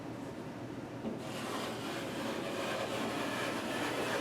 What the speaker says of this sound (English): we'll clean up whatever excess mud we have on the sides here.